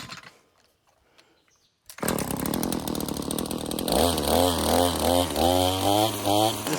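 A Shindaiwa M262 brush cutter engine starts up after a quiet moment, then runs loud and close with a buzzy two-stroke drone that rises and falls in repeated throttle revs.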